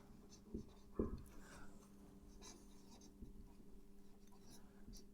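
Pen or chalk writing during a class 10 maths lesson, faint scratchy strokes with a couple of small taps, quiet against a low room hum.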